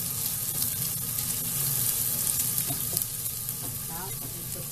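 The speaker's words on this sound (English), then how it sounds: "let me put some of these chopped garlic, chopped spring onion in there." Chopped garlic and spring onion frying with bacon in a hot pan, a steady close sizzle with a few stirring scrapes and light clatter near the end.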